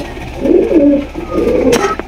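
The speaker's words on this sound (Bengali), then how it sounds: "এখানে রয়েছে খুবই সুন্দর একজোড়া সুন্দরী গররা কবুতর" A pair of Gorra pigeons coo nearby in two low, throaty rolling phrases with a short pause between them, ending with a faint click.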